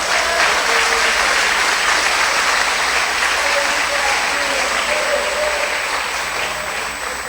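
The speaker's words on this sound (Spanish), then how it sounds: "Un fuerte aplauso para Cristo Jesús." A church congregation applauds during a Spanish-language sermon, steady dense clapping filling the room for several seconds and easing slightly at the end.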